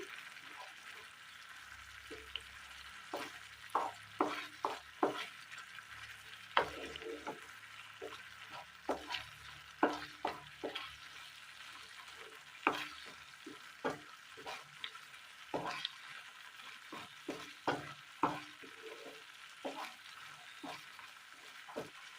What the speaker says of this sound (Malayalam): ഇതിലേക്ക് ഒരു മുട്ട പൊട്ടിച്ചത് ഒഴിച്ചു കൊടുക്കാം. നന്നായിട്ടൊന്ന് ഇളക്കി കൊടുക്കാം.